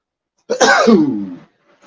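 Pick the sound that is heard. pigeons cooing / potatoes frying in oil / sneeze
sneeze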